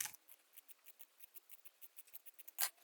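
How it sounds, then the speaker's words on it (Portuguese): Scissors snip through a velcro strip in a quick run of about a dozen small clipped cuts, close and fairly quiet, ending in one louder final snip. "Então, eu vou cortar aqui no meio."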